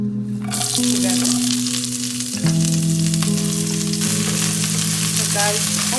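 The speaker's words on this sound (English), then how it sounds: "So I'm going to cook only green beans and the carrot together." Green beans and carrot frying in very hot oil, a loud, steady sizzle and bubbling close by, with steady tones humming underneath throughout.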